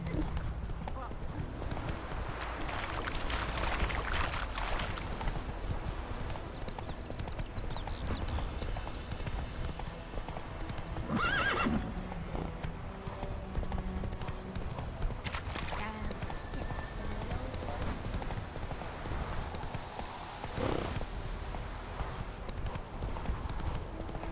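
Roach the horse trots in The Witcher 3 with a steady clip-clop of hooves and a short neigh near the middle, while someone talks over the game sounds.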